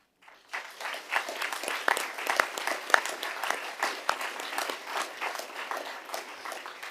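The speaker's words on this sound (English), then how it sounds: "if we could just give one more big round of applause for all of our valedictorians and salutatorians" A room at a school board meeting breaks into applause for valedictorians and salutatorians, a dense crowd clapping that starts abruptly and holds steady at moderate volume with a few sharper claps standing out.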